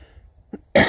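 A single short dry cough from an irritated throat bursts out loud and close at the end, after a faint breathy sound and near-silence.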